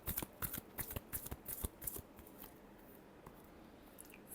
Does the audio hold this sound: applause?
no